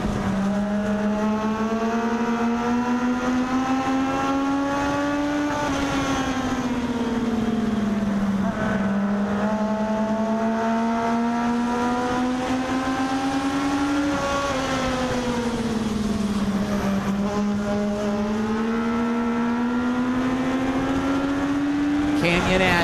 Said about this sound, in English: Canyon Ashley, your race leader out of 4-0